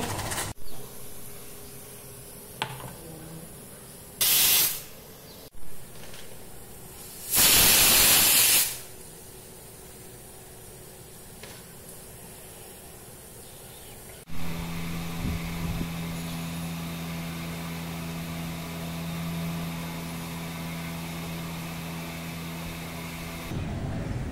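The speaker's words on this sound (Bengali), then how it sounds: "চায়ের জল ফুটে গেছে" Water for tea boils in a pot, giving off short, sharp hisses of steam, the longest lasting about a second, before a steady, fuller rumbling boil takes over.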